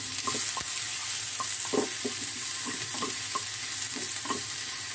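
Onions added to hot mustard seeds in a pan for alu-patol bhujia, a steady close sizzle and fry with repeated soft stirring scrapes of a spatula over it, no talking.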